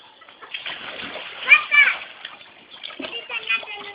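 A goose splashes as it swims in water, with bursts of splashing and sloshing rising around the middle and again near the end, heard close and under excited speech from people nearby.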